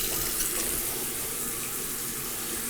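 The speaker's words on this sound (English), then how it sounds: "Turn your water on." A water tap runs into a bathroom sink beside a mirror being fitted, a steady close splashing stream that stays even and uninterrupted with no voices.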